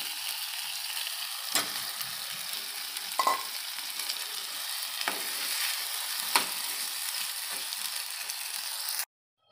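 Pieces of mutton frying in roasted masala for rustic kharda mutton, a steady broadband sizzle with a few sharp stirring scrapes and clinks against the pan, close up with no talking, cutting off abruptly near the end.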